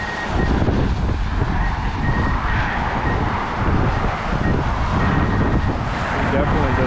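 Strong gusting wind, around 45 mph, buffets a GoPro Hero 9 microphone outdoors, producing heavy low rumbling and roaring noise that swells and eases throughout, loud and close.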